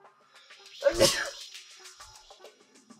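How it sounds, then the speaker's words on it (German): A person sneezes once, loudly and close, during a Tower of Guns game session, as a short sharp burst in otherwise quiet surroundings. "aber ich muss gleich niesen"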